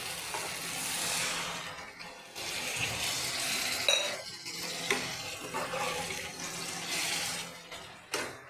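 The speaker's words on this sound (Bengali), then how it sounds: "এবার আমি জল দিয়ে দিচ্ছি।" Water poured into an egg and green pea curry in a pan on the stove, heard as close splashing and running water in several bursts with soft clatters from the pan between them.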